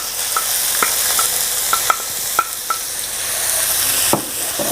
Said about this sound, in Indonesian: Sambil ditumis-tumis langsung masuk juga untuk bawang bombay yang sudah dicincang